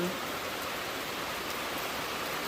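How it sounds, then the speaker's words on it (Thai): Steady, dense rain pours down during a heavy storm, a constant broadband wash with no breaks, fairly close and even in loudness throughout. "ฝนตก"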